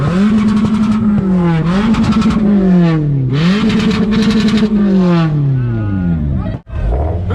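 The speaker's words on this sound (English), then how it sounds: "Everybody be real quiet, because we want to hear this Toyota." A Toyota at a two-step drag competition revs hard in repeated rising and falling bursts, its engine loud and close, before a brief cutoff and a final rev.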